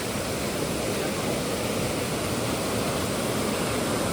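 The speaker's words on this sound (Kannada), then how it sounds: "ಫಾಲ್ಸ್ ನೋಡಿ ಎಷ್ಟು ಚೆನ್ನಾಗಿ" Waterfall on the Bandaje trek, a dense, unbroken roar of rushing water that stays loud and even throughout, with no voices.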